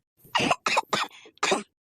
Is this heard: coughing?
yes